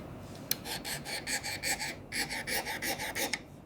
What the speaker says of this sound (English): Before brushing the case, we need to deburr all the edges.